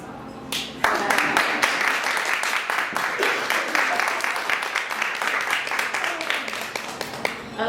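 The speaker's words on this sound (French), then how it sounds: "Alors, on commence tout de suite à se réchauffer puis on t'applaudit." Sustained audience applause at the book launch of the novel Caméléon, second in a trilogy, with dense, steady clapping from many hands filling the room after a brief quiet start and continuing without a break.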